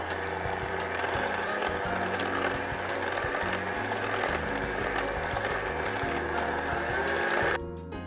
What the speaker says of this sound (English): I'm just going to add the 1/4 cup plus 2 tablespoons of sugar to my eggs and start beating